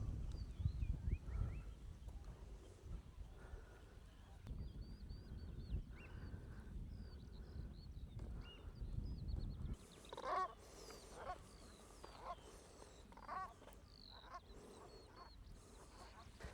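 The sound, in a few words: small birds chirping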